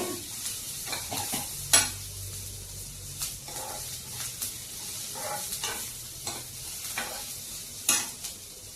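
Onions and sesame seeds fry in a pan with a steady soft sizzle, broken by repeated scraping and stirring strokes of a utensil against the pan, close and without talk.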